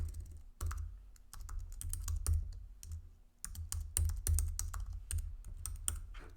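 Close, quiet typing on a computer keyboard as an email address and password are entered, with quick irregular key clicks in two bursts around a brief pause and no talking.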